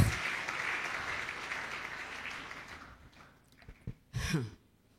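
A church congregation applauding to acclaim the Lord: dense clapping rises at the start and holds for about three seconds, then thins out and fades, leaving a few scattered claps and a short final burst.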